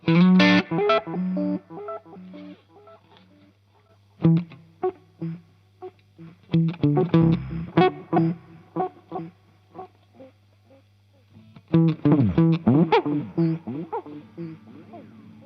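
Electric guitar notes and chords warped by a wobbling modulation effect, playing in bursts with pauses between, a steady hum underneath.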